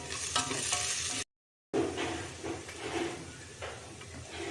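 Ginger garlic paste, turmeric and byadgi chillies sizzle loudly in a pan while being stirred, a continuous close frying hiss interrupted by one brief cut to silence.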